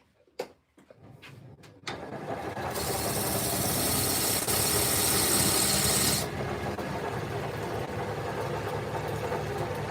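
A carbide tool shaves wood spinning on a lathe, a steady loud rasping hiss that starts after a few brief knocks and holds for several seconds before easing slightly.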